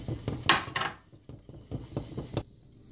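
A spoon scrapes and taps against a pot of chicken soup in quick, uneven strokes, with a couple of brighter clinks early, close and fairly quiet with no talk.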